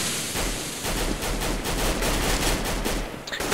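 Dense gunfire in a CS:GO match on Mirage, rapid overlapping shots filling the mix continuously and loudly with a brief dip near the end, no voices.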